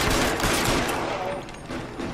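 Sustained gunfire from an L.A. Noire video game shootout roars as a dense, loud, continuous volley of shots with no pauses and no voices over it.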